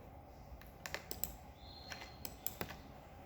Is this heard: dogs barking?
no